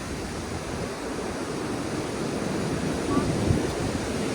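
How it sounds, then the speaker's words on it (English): Horseshoe Falls at Niagara roars as a broad, steady rush of falling water, with wind buffeting the microphone throughout. "That's the Horseshoe Falls."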